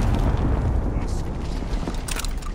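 Explosions from a bombing zone in a battle royale video game rumble loudly and continuously, with booming bursts layered over dense game noise.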